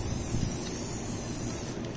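Steady, close hiss of spray paint from an aerosol can, sprayed as a sheet onto water for hydro dipping, one continuous burst.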